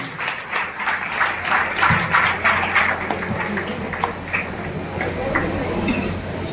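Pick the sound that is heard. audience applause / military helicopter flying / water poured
audience applause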